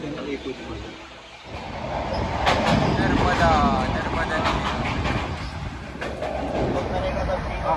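A train on the Kedarnath pilgrimage route rumbles steadily with rolling clatter and a faint squeal as it comes to a stop, while people talk loudly over the noise nearby.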